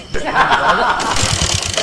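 A motorbike engine cranks and catches, settling into a rough, pulsing idle, close by, with a voice briefly heard over it.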